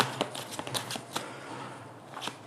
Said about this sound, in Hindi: 2 कार्ड्स आपकी एनर्जी के लिए निकालेंगे